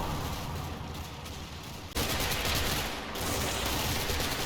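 American mortar fire in the Combat Mission wargame, a sudden loud impact that cuts into steady rumbling battle noise, with the sustained roar continuing afterward.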